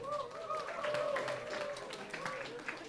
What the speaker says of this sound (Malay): Okey, berikan tepukan.